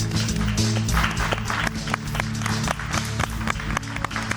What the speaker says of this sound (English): Round of applause for Kyra.